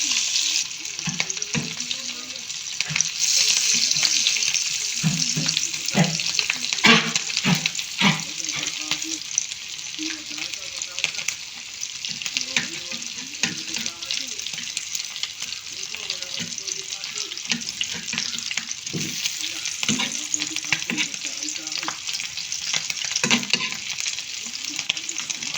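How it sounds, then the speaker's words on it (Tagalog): Luncheon meat and soy sauce frying in a pan, oil crackling and spitting close up in a busy sizzle with frequent utensil scrapes and knocks, no speech over it. "Tumatalsik ang mantika."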